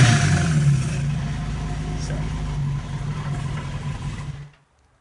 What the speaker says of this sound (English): I'll put the phone down here, camera down here to the engine so you can hear it